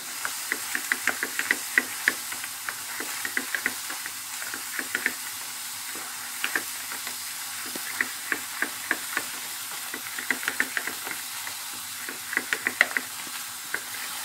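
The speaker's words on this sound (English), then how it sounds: "We're gonna just mix it nice." A sauce of vinegar, honey, salt and black pepper being whisked in a bowl, producing rapid irregular clicks and scrapes of utensil on dish over a steady background hiss, close by and without speech.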